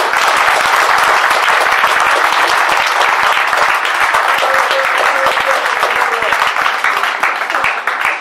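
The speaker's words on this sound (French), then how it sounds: "veux des tonnerres d'applaudissements pour la coordination des jeunes de Khombol" Thunderous, sustained applause rolls on at a youth weekend gathering for the coordination of the young people of Khombol, a loud, dense crowd clapping continuously for over eight seconds with a few faint tones beneath.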